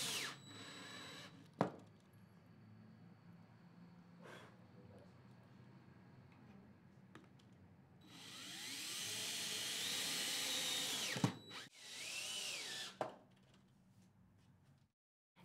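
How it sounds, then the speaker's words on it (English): A power drill drives screws into the stiffener of a horizontal Murphy bed cabinet backboard, giving a long steady whine of several seconds with shorter bursts before and after, close by and alone. "There will be 5 screws drilled along the top edges and 5 screws along the bottom."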